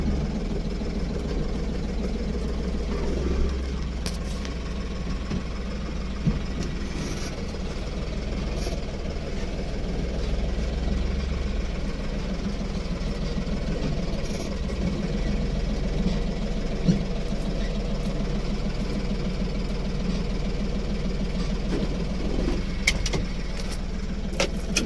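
A Mahindra Bolero Pickup, a ten-foot goods vehicle, runs at a steady low idle throughout while it is being parked, a close continuous engine rumble with faint outdoor noise.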